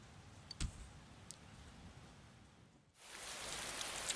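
Steady rain falling on a rainy night in the video game Persona 4 Golden, a faint soft hiss with a couple of sharp clicks, swelling abruptly into a louder, denser downpour near the end.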